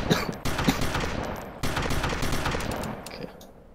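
Video game gunfire in a dense, continuous burst of rapid shots with a few louder punctuating blasts, loud and close throughout with no voices.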